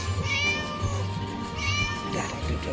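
A cat meows loudly and insistently close by, with two or three drawn-out cries and no talk over them.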